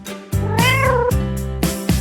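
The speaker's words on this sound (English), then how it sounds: "Cat." A cat meows in several loud, close calls with a drawn-out rising and falling middle cry, alone with no voices.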